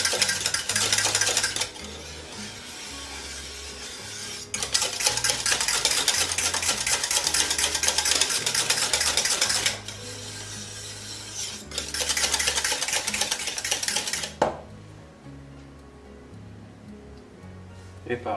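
Choux pastry mixture stirred in a pot, a close, steady scraping and swishing in long bursts separated by short pauses, under someone speaking French.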